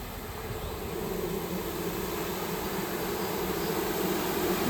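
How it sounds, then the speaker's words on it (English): Honey bees buzzing around an open hive, a dense, constant drone of many bees, close and loud without pause. "Too many bees."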